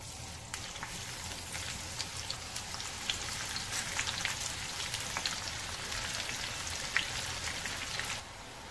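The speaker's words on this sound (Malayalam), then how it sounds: "നമുക്ക് ബിസ്ത വറുത്ത് മാറ്റാം," Sliced onions frying in hot oil for Malabar mutton biryani, a continuous quiet sizzle with scattered sharp pops and spits that ends in a steadier hiss.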